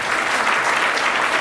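Loud, steady applause from an audience at a library inauguration, honouring a builder who was the main donor, a continuous wash of clapping with no talk over it.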